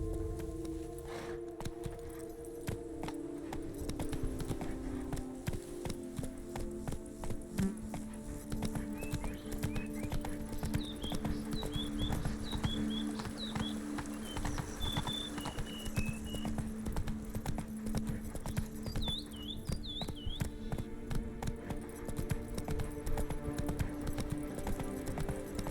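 Roach, the horse in The Witcher 3, trots along with steady clip-clop hoofbeats and faint jingling tack over a low ambient bed, with a few short chirps in the middle and near the end.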